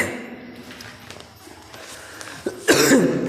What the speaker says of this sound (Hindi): थोड़ा सा खांसी हो गया